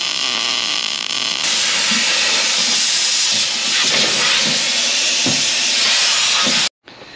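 Loud, steady crackling hiss of welding on a farm auger runs nearly the whole time, then cuts off abruptly near the end before briefly resuming.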